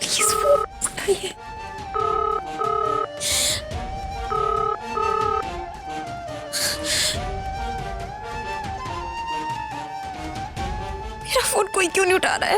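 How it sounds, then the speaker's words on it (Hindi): A telephone rings repeatedly without being answered, its ringtone of short bursts repeating under loud, dramatic music with sharp hits, in a scene from a Hindi TV drama. "मेरा फोन कोई क्यों नहीं उठा रहा है?"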